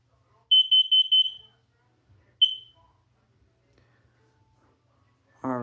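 A household smoke alarm under test gives a burst of rapid, piercing high beeps, then a single short beep, and a voice starts speaking at the very end.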